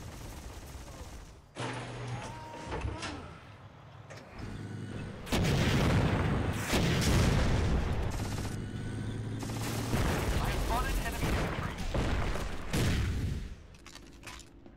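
Heavy gunfire from an online multiplayer war game, the Empires mod, with a machine gun firing among loud overlapping shots and booms, dense and continuous for most of the stretch after a quieter opening.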